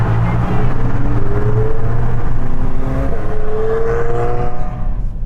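A Mercedes-Benz S63 AMG E Performance accelerating hard, its engine rising in pitch through a couple of long sweeping pulls, loud and close with steady road rumble underneath.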